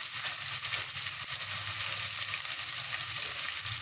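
Pre-boiled mutton fries in a pan with a loud, steady sizzle and hiss that runs unbroken throughout, close and with no voices.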